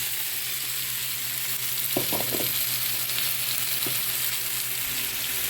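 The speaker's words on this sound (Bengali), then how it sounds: "সব ধরনের সবজিগুলো একটু ভেজে নিব" Mixed winter vegetables (carrot, aubergine, potato, cauliflower, broccoli, tomato, green chilli) frying in a turmeric-and-salt spice paste for khichuri, a steady close sizzle with a few short stirring scrapes partway through.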